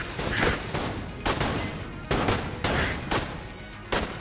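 Rapid gunfire from the Enter the Gungeon video game, bursts of shots repeating every second or so with sharp loud onsets, steady and close with no talk.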